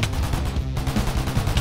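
Gunfire from guns in Minecraft, the block-building video game, rattles out as a rapid, loud, continuous burst of shots that barely pauses, with no talking over it.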